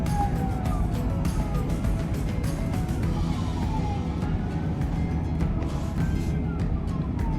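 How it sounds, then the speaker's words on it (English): Police sirens wail in the distance in Dallas, Texas, sweeping up and down over a constant rumble of city traffic. "You can hear the sirens pretty easily and they could wake you up from a dead sleep"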